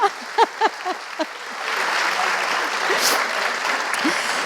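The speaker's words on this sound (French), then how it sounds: "je vais vous demander d'accueillir sous un tonnerre d'applaudissements Sandrine" An audience at a Forum Séisme Grand Ouest round-table welcomes a speaker with a swell of applause, rising after a few brief spoken words into loud continuous clapping from many hands that holds to the end.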